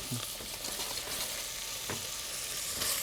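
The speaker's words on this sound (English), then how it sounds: "Sweating basically just means we're softening those colors or those flavors in the onion." Onions sweat in a pot for an octopus dish, giving a steady, bright sizzle with a few soft stirring knocks and no talking.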